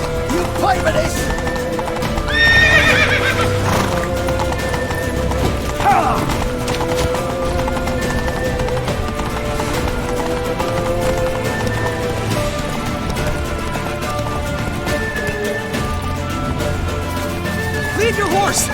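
Horses galloping with clip-clop hooves and an occasional neigh in a game scene, continuous and fairly loud over a music-like background, with shouting voices mixed in.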